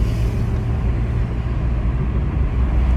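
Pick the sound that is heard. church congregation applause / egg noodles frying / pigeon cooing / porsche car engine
porsche car engine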